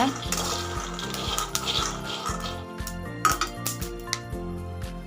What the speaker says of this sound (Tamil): நல்லா அந்த வறுபடுற சத்தமும் வந்து நல்லாவே கேட்கும்